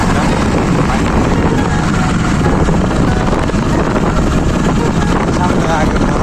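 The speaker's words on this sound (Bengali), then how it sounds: "আজকে মোটরসাইকেল নিয়ে চলে আসলাম।" A motorcycle ride along Bayezid Link Road, a hill road in Chattogram, heard as a loud, continuous roar of engine and wind buffeting that holds steady throughout.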